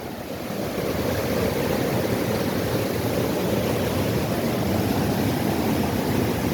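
A loud, continuous roar of rushing floodwater from the Mand River surges steadily without pause, broad and powerful, pouring fast over a bridge near Karad, Satara, India.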